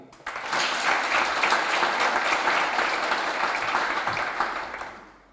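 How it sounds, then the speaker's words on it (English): A conference audience applauds panelists with dense, sustained clapping that holds steady for several seconds and then fades out, with no one talking. "Let's clap again."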